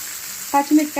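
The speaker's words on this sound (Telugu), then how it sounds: "ఇలా ఫుల్గా బాగా వేయించుకోవాలి." Green chillies and garlic frying in a pan with a soft background sizzle, followed by three short louder bursts of crackling as the pan is stirred.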